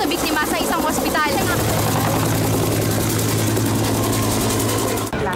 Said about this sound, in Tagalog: may makikita natin yung isang helicopter na siyang magta-transport sa biktima sa isang ospital